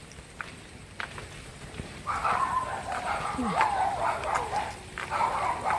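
Puppies at a house yip and whimper in short, high-pitched bursts, faint at first and then a closer cluster of barks and whines continuing to the end, with voices faintly in the background.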